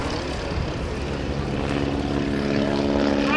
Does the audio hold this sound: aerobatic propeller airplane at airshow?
yes